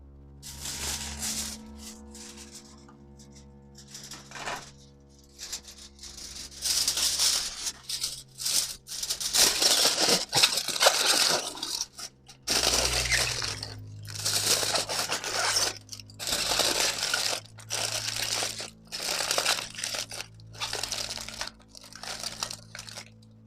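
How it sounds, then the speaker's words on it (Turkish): Fabric or foil being folded and crinkled by hand at close range, repeated crackling and rustling bursts separated by brief pauses, without speech. "bu ritüeli bir kumaş parçası veya bir folyo içerisine bırakıp katlayın şöyle"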